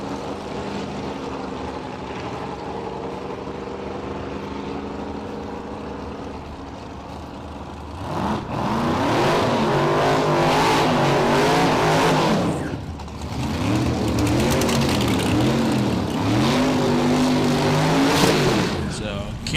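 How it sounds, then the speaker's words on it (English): Race car engines at South Georgia Motorsports Park, a steady idling drone that bursts into two loud revving runs with rising and falling pitch, one of them a 67 Chevy Camaro; an announcer talks over the early part. "Double stepping on the throttle"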